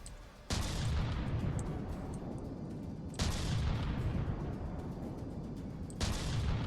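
A gun in a video game fires in three heavy, booming bursts spaced a few seconds apart, each one loud and sustained with a rumbling tail.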